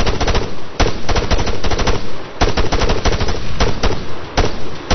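Rapid automatic gunfire in the Arma 3 video game, repeated loud bursts of closely spaced shots separated by short pauses, continuing throughout the clip.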